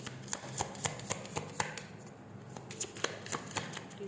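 Tarot cards are shuffled by hand in a quiet room, producing a soft, rhythmic run of crisp riffling snaps at a steady pace.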